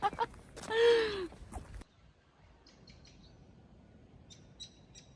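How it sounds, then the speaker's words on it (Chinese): After a brief stretch of talking and breathing, a few faint, scattered bird chirps come from trees around a very quiet village. "只听到这个树上的鸟叫声啊。"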